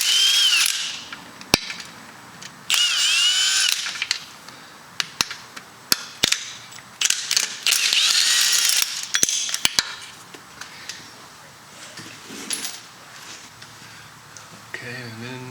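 An impact tool or power drill removes bolts from a Kia car engine near the oil filter. Repeated bursts of loud whirring and rattling come between sharp clicks and quieter gaps.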